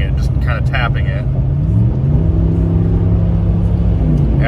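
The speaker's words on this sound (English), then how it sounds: "when I give it that little bit of throttle in race mode, it actually goes down to sixth gear without even flooring it" A 2019-or-later Ram 1500 pickup's engine rises in a loud, close rev as the throttle is tapped in race mode, the drone climbing smoothly, with a brief voice at the start.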